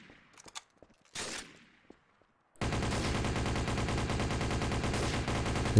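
Pistol fire in Garry's Mod TTT, a few faint sparse shots at first, then a loud, continuous burst of rapid gunfire taking over for the last few seconds.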